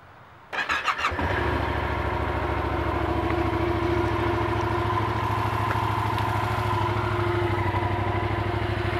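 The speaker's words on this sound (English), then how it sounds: "let's go ahead and start this thing, since I got the key on. I'll show you the exhaust." A 2015 Yamaha FZ-07 motorcycle engine cranks and fires after a brief starter whir, then settles into a steady, fairly quiet idle with an even exhaust burble heard close up.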